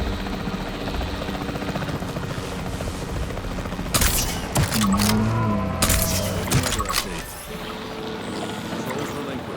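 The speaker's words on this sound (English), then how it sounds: "The priority needs to be tranquilizing it with the capture team chopper." A capture team helicopter in the video game Jurassic World Evolution 3, a steady rotor drone under a loud burst of gunfire-like cracks and rumbling impacts, with a voice heard faintly.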